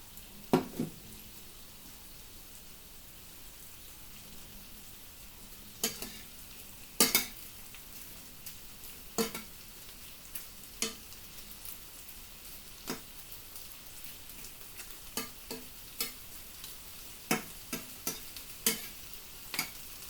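Fusion tteokbokki frying in a pan while it is stirred: a soft, steady sizzle broken by irregular sharp scrapes and clicks from the utensil, close by, with no talking.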